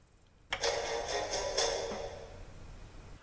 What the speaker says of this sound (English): And here's the powering off.